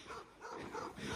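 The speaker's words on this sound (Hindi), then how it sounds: "अब यार ये यहाँ से भी भौंक रहा है" A dog in a snowy Kazakhstan village barks and whimpers in short repeated yips, fairly faint and close by, with no talk over it.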